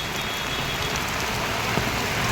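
Heavy rain pours down at Khed bus station in Ratnagiri, a dense, even hiss of falling water on surfaces, loud and unbroken throughout, with no talk.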